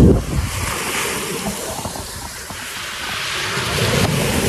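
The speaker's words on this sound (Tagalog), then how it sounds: "Kasama natin itong dagat ng Laia, Batangas." Sea waves wash continuously onto the shore at Laiya beach in Batangas, a broad steady surf roar with gusts of wind buffeting the microphone close by.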